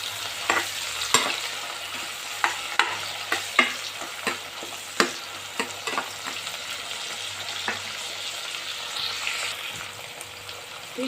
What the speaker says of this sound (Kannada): ಈಗ ಇದಕ್ಕೆ ಟೊಮೊಟೊ ಹಾಕ್ಕೊಳ್ತಾ ಇದ್ದೀನಿ. ಸ್ವಲ್ಪ ಫ್ರೈ ಮಾಡ್ತೀನಿ.